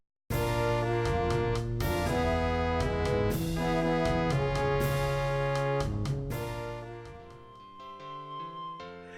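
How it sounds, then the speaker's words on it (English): Sci-fi film style chord progression played as sustained, layered orchestral or synth chords that shift every second or so, with steady loudness throughout before easing slightly near the end, alone with no talking. "a good chord progression used in sci-fi films such as Star Wars"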